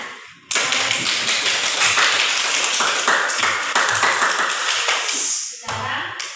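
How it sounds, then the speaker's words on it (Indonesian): A group claps hands together in a brisk, uneven burst lasting several seconds, ending with a few scattered claps. "Bisa tepuk tangan."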